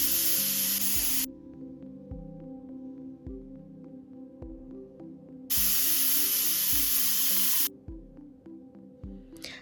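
Pressure cooker releasing steam while chicken and rice cook, two long loud hissing bursts separated by quieter rhythmic rattling from the weight on the lid.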